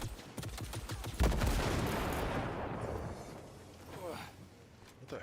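Gunfire in Cyberpunk 2077 comes as a dense volley of sharp shots with a booming impact, then settles into a rumbling tail and scattered further shots, with faint talking underneath.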